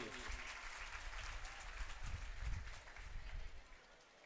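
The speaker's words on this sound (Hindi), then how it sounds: "एक बार पुनः जोरदार तालियां" Strong applause from an audience at a Hindi-language school event honouring a speaker, a steady wash of many hands clapping throughout, with a brief louder swell near the middle before it thins slightly at the end.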